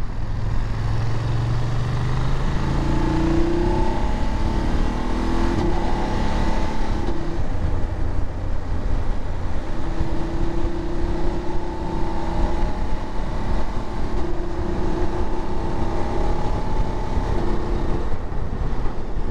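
A 2022 BMW F850GS Adventure motorcycle cruising at freeway speed, with a steady engine drone under a continuous broadband roar of wind rushing past. No one speaks.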